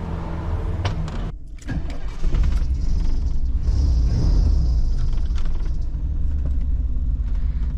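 A tow truck wrecker's motor labours with a heavy low rumble and mechanical whine, a short creaking start before a sustained strained drone, loud and close.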